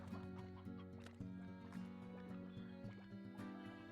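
Chickens cluck faintly in the Slime Rancher video game, intermittent soft calls beneath a steady background music loop.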